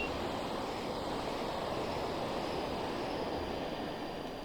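Train coaches rolling past behind a Class 86 electric locomotive in a UK train simulator game: a steady, dense rumble and rush that holds at an even level throughout with no break.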